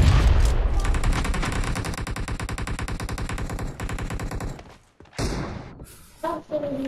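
Rapid automatic gunfire in PUBG Mobile team deathmatch, a fast continuous stream of shots for several seconds that breaks off into a few separate bursts, loud and close.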